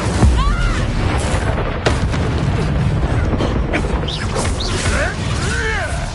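Blasts and crashes of spellcasting in a Hogwarts Legacy fight, with the Incendio fire spell bursting among sharp impacts and chirping magical sweeps, busy and loud throughout.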